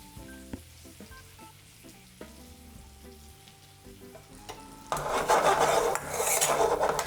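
Mushrooms drop into a hot pan while cooking rice, quiet clinks and faint background tones at first, then a loud, close, sustained sizzling fry bursts up and continues to the end.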